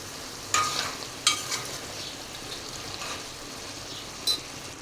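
A spoon stirs chicken and cauliflower curry in a masala base in a pan, with a few distinct scraping strokes over a soft, continuous frying sizzle; no one speaks.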